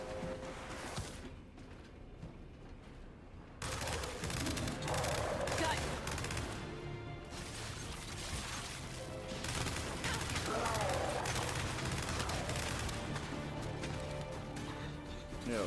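Bursts of automatic gunfire from the Gears 5 video game sound steadily over a dense, loud mix of battle effects and mechanical clatter, with a player's voice talking over the action.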